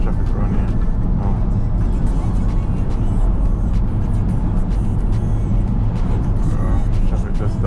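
Road traffic building up, heard as a steady, loud low rumble of engines and tyres with no pauses, like continuous driving among other cars.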